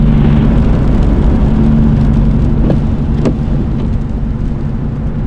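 A Dodge Challenger drives along, heard from inside the car as a loud, continuous engine and road rumble that stays steady, with a few faint clicks.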